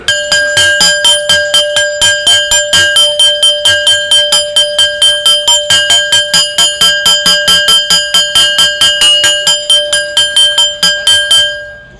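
An electric bell in a classroom rings loud and close, a rapid, evenly spaced clanging of around fifty strokes with a bright sustained tone, continuing for about twelve seconds before stopping.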